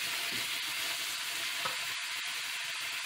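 Beef seasoned with salt and pepper fries in a pot with a constant bright sizzle, while a spoon stirs it with a few soft scrapes and knocks; no voices.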